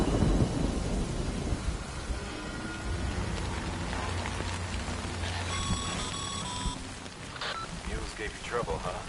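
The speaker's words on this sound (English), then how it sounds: "Good thing it was raining." Heavy rain and rolling thunder in the video game Death Stranding, a dense steady downpour with low rumbles, joined midway by a brief electronic tone, with a voice speaking over the storm.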